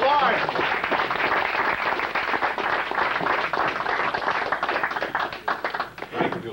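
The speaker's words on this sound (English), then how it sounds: "A round of applause for our Councilman of Florida" A room applauds a Florida councilman at a broadcast pioneers event, loud, dense clapping close by that holds steady and thins slightly near the end.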